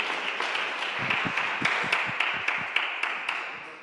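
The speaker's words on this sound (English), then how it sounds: "another round of applause is in order" A congregation at a Sunday worship service claps, producing a steady round of applause with distinct sharp claps standing out above the crowd's dense patter.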